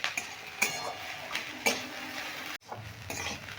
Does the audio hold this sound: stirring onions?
yes